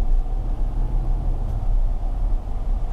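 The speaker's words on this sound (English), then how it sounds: "we're going to take it for a quick drive" A 2021 RAM 1500 Built To Serve pickup with eTorque driving, heard from inside the cab as a steady low road rumble and engine hum, continuous and fairly loud with no talking.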